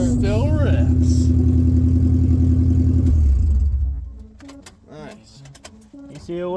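A car engine revs loudly and steadily for about three seconds after a newly installed ECU, then cuts out, and voices talk over the quieter tail.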